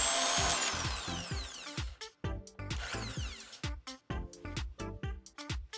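An electric drill running at its slowest speed bores into material, a loud whirring that starts, stops and restarts in several uneven bursts with brief pauses, no voices.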